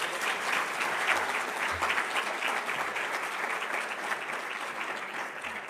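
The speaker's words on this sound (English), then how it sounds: "So please give them a big round of applause for" Sustained, dense applause from a large audience at a prayer breakfast, loud and even throughout with no break in the clapping.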